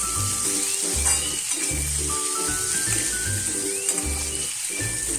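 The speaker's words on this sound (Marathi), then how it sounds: "यामध्ये मी आता टोमॅटो टाकणार आहे. ते आता टोमॅटो पण पूर्ण मेल्ट होईपर्यंत भाजून घेणार आहे." Onion and tomato sizzle steadily in hot oil in a pan while mutton masala is being made, with low rhythmic thumps from stirring under a constant bright hiss.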